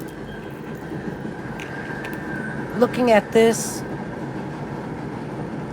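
A train rumbles past steadily in the background while a person talks nearby. Squealing, screeching wheel noise rises briefly over the steady drone.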